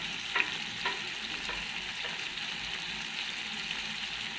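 Ginger garlic paste frying in oil in a pan for a pork dish, a steady close sizzle with a few utensil scrapes and stirring knocks early on.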